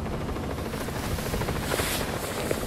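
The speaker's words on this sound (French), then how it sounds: "prendre un hélico et partir" A helicopter in the video game Just Cause 4 gives off a steady rotor chop and engine drone, a continuous loud thrumming throughout with no talk.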